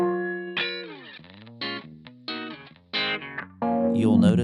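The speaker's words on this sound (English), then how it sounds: "Currently, we're in band pass mode, and it sounds like this." A NativeAudio Niisoo harmonic equalizer resonance filter in band pass mode shapes a synth line, giving short phrases a hollow, ringing tone with sweeping resonant peaks and pronounced emphasis that shifts between notes.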